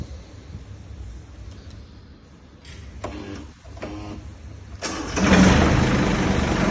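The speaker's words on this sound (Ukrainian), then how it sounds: "Заводиться легко." A small Iseki TU 245 diesel tractor, fitted with glow plugs, is cranked and catches, then runs loud and steady close by after the start.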